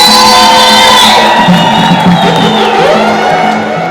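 A political rally crowd in Tunduma cheers and shouts loudly for about four seconds, a dense wall of voices with whoops rising and falling throughout.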